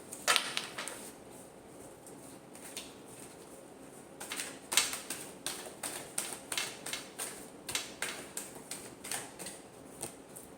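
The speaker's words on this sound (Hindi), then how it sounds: "Last shuffle." A tarot deck being shuffled by hand, soft papery card riffles and taps, sparse at first, then a denser run of rhythmic flicks in the second half, quiet and close.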